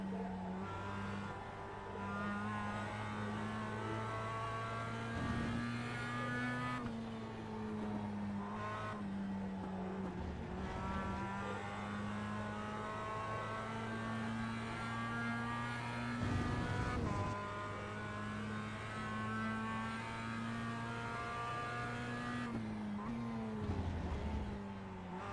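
A Mazda MX-5 Cup race car in iRacing drones steadily at high revs through a last lap, with brief dips and lifts in pitch at gear changes and corners, loud and continuous with no talk.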